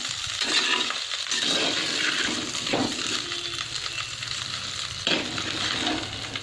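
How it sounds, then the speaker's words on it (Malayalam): Red rice mixture is stirred in a hot pan, a close sizzle with repeated scraping and gritty rustling strokes of the spoon, no talk. "നന്നായിട്ട് ഇളക്കി കൊടുക്കുക."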